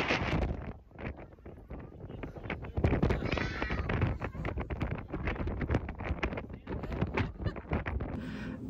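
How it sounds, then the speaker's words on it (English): Strong gusting wind buffets the microphone outdoors, a loud continuous roar with rough bursts and rustling running the whole time and no talk over it. "The videos videos and photos that I am inserting were just to show how absolutely windy it was"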